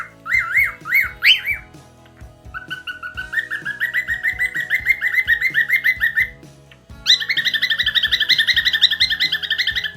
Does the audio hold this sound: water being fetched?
no